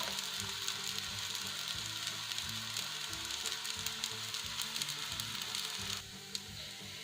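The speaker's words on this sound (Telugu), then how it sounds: "అలానే మళ్ళీ సిమ్లోనే పెట్టి కాల్చుకోండి కొంచెం ఎర్రగా వచ్చే వరకు" Hara bhara kababs shallow-fry in a little oil in a pan over a low flame. A steady close sizzle crackles throughout, then quiets suddenly near the end.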